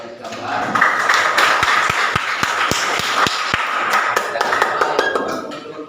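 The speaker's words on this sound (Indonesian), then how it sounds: "Oke, tepuk tangan." A classroom audience claps in a brief burst of sharp, rapid hand claps over several seconds, with a teacher talking at a lesson on technical drawing lines and room chatter mixed underneath.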